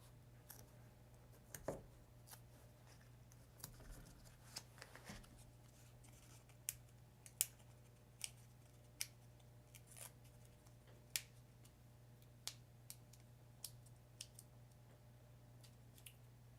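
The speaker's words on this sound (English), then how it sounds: "so just cut it down a little bit." Scissors cutting through card for a handmade Valentine card, a string of faint, sharp snips spaced a second or two apart over a low steady hum, no talk.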